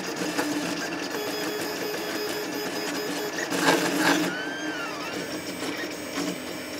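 Orcinus 3D printer running a 600mm/s, 35K acceleration speed test, giving a steady whirring motor hum with brief rising and falling stepper whines, close and continuous with no speech.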